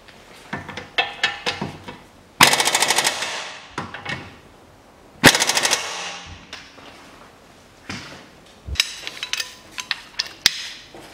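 Ratchet and socket work loosening a ball joint from the steering knuckle of a 2007 Lexus IS 250, with repeated short metallic clicks, clanks and knocks at close range, broken by two loud bursts of harsh broadband noise.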